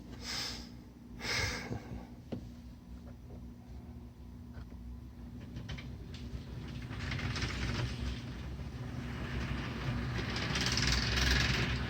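An HO-scale model train locomotive runs on its track with its wheels slipping, giving a close, faint whirring hum and light clicking rattle that builds in loudness toward the end.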